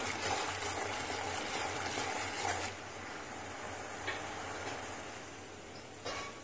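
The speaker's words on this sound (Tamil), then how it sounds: "நல்லா கொதிக்கட்டும்" Sugar syrup boils in a pan for an eggless rava cake, giving a steady, close bubbling hiss with a few faint utensil taps scattered through it.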